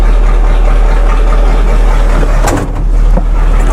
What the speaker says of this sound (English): I'm going to pull it out and let it run for a little bit longer.